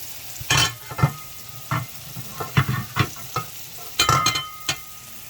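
Squash roasting in a covered pan, a soft constant sizzle with sharp bursts of spatula stirring and scraping at irregular intervals, close up and with no talk.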